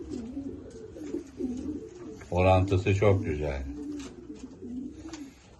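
A male racing pigeon coos in a burst of low, throaty calls, heard close alongside someone talking.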